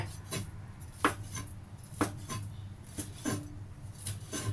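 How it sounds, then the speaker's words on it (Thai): A knife chops fish on a cutting board in sharp, fairly regular strokes, about one every half second, with a quiet room behind. "เราจะหั่นเป็นชิ้นๆนะคะ"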